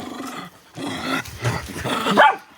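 Dogs playing in a freshly weeded garden, giving a run of close, loud barks and growly vocalizations in several bursts over a few seconds.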